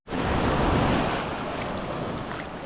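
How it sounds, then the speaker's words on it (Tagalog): Big ocean waves breaking on a beach shore, a loud, close roaring wash that starts suddenly and holds steady, mixed with wind buffeting, with no voices. "Lalaki ng alon."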